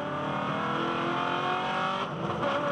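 V8 Ute race car engine at full throttle during a race at the Adelaide Clipsal 500, a loud, sustained, high-revving roar with a brief dip as it shifts gear.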